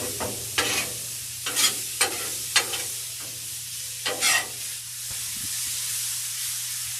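Mushrooms sautéing in ghee on a Blackstone griddle give a steady low sizzle, broken by several sharp scraping stirs of a spatula across the steel, with quieter frying hiss toward the end.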